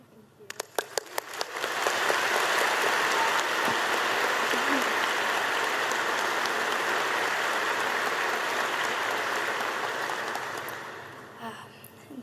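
An audience at a troop event with Dr. Biden breaks into applause, rising after a few early claps into sustained, dense clapping for several seconds before tapering off, heard from within the crowd.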